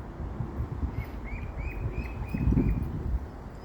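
Ducklings in a duck hut give a short run of high, rapid cheeps over a low background rumble and some rustling, fairly faint and brief.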